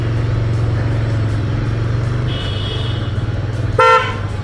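A Mahindra Scorpio SUV horn gives one short, loud honk near the end, over the steady rumble of an idling engine and passing traffic.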